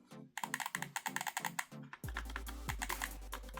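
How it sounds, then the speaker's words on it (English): Shoulder buttons on a QRD Ferrox M5 Xbox controller clicking repeatedly, a quick series of crisp close plastic clicks in an uneven rhythm, followed by a denser burst of clicking over a low steady hum. "Clicky shoulder buttons, nice triggers."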